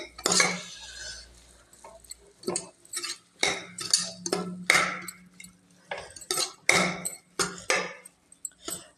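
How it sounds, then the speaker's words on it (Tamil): A spoon scrapes and clanks against a metal pot while vegetable biryani is being stirred, giving repeated close, sharp metallic strikes in an irregular rhythm throughout. "பிரியாணி செய்கிறது வந்து பார்த்தீங்கன்னா நல்ல கிளறில் கிளறில் கிளறில் தான் இருக்குது"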